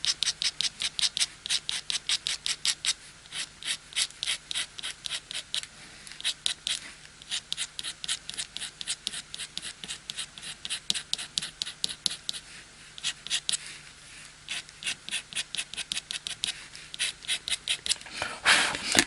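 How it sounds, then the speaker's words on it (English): A Slice ceramic knife blade scratches rhythmically across a surface to build fur texture, a close, steady series of dry rasping strokes repeating for the whole stretch. "I'm just literally scratching the surface."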